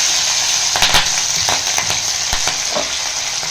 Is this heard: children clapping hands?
no